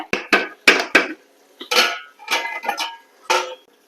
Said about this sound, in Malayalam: പാത്രമൊക്കെ കഴുകും.